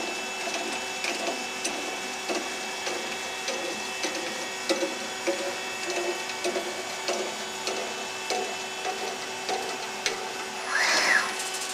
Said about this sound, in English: Listen for the feed motor returning now.